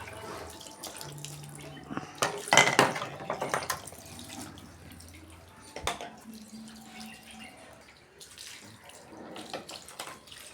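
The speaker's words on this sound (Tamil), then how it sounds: "இப்போ பார்த்தீங்கன்னா பல்க் வந்து நல்லா கழுவிட்டு இருக்கோம்" Water runs and splashes in quiet, irregular bursts while a fridge box being used as a guppy fish tank is rinsed out, with a louder gush near the start and softer trickles and drips after.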